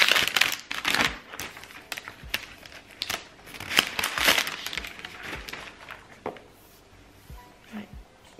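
A new dark grey MacBook Air M1 (2020) is unboxed, with close crinkling, tapping and rustling of packaging in uneven bursts that fade toward the end, without talk.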